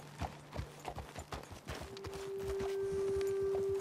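Horse hooves clip-clop in a steady walking rhythm in Red Dead Redemption 2, close and clear. A sustained tone fades in partway through as the steps continue, and no one speaks.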